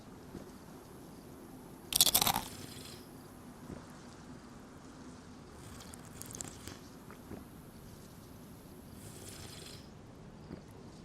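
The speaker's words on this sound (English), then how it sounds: "How about one close-up chip crunch?" A sharp, close crunch of a chip being bitten stands out once, followed by softer faint crunches and chewing against a quiet, humid-room background.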